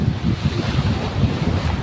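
Ocean waves washing onto a seashore, mixed with gusting wind noise, giving a continuous rough, surging wash at close range with no voices.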